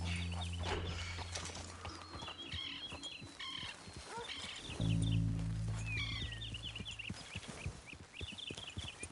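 Horse hooves clip-clopping at a steady walking rhythm in Red Dead Redemption 2, close and clear over ambient outdoor game sound with birdsong and low engine-like drones, no talk.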